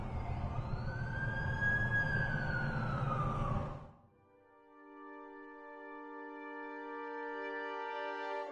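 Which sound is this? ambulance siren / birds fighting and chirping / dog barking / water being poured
ambulance siren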